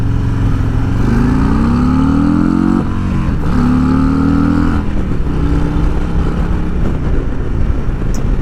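A Harley-Davidson Road Glide Special motorcycle engine revs hard, climbing in pitch in loud surges, then bouncing off the rev limiter before settling into a steady roar.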